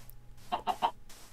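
Minecraft chicken in a video game giving three quick clucks in a row, fairly close, over a quiet low background with no talking.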